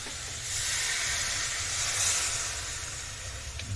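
Keema masala sizzles after a splash of water hits the hot pan, a steady broadband hiss up close that swells briefly and holds, with no talking.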